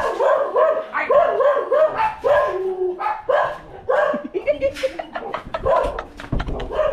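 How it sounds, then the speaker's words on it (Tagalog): A dog barks repeatedly at close range in a quick run of sharp barks and yips, with short pauses and some whimpering between them, while a person talks over and between the barking. "Ikaw, bakit ka ba tahol ng tahol sa akin,"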